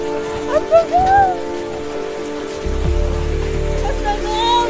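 Hailstones fall in North Luwu as steady pattering, then a heavier low rumbling drumming starts partway through, while excited voices talk and exclaim nearby.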